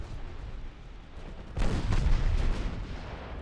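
A torpedo strikes a ship in a naval game set in 1897, bursting into a sudden deep boom partway through and then a rumbling roar that carries on to the end.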